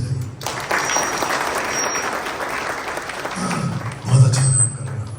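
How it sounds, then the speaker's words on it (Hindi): Audience at a church conference clapping steadily and loudly throughout, a dense crowd applause, with a voice briefly speaking over it near the end. "इनके लिए ताली बजाइए।"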